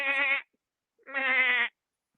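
A person imitates a goat with two drawn-out, wavering bleats, each lasting about half a second and separated by a brief silence, loud and close.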